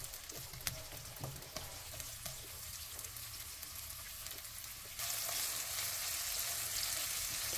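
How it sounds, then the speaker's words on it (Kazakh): Onions fry in a little oil in a hot pan, giving a soft, steady sizzle with scattered pops and crackles that grows louder toward the end, with no voices. "Оған пиязды салып қуырдым."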